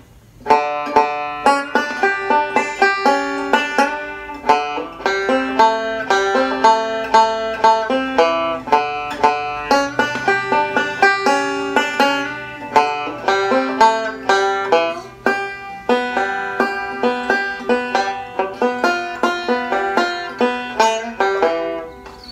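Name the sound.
banjo playing two measures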